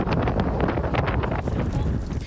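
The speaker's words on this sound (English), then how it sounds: "you could hear the power of the winds battering morning suburban Beijing" Strong gale winds battering suburban Beijing on a stormy morning, a loud continuous roar of gusts buffeting the microphone with broad rushing noise and no pauses.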